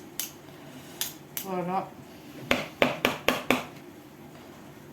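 A metal spoon knocks and scrapes against a mixing bowl of mascarpone: a scrape, then a quick run of five sharp, close clinks, with a brief voice.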